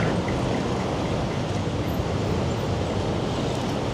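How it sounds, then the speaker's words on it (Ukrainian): A tram rolls along a city street in Odesa, producing a loud, continuous broadband rumble and roar that stays steady and close throughout, with no speech. "І трамвай вже летить на всіх парусах."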